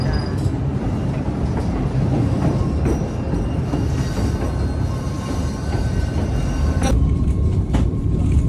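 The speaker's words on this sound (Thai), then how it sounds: "เมื่อกี้ก็จะเห็นรถไฟเข้าอุโมงค์นะครับ" A steady, loud rumble of a train on the White Pass railway in Skagway, Alaska, rolling along rails, with continuous low clatter throughout and no clear talk.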